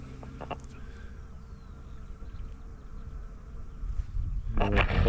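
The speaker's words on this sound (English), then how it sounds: "I've got a bee round me already." Honeybees buzz around hives at a new apiary, a constant close droning hum with individual bees flying past near the microphone and a louder rustle toward the end.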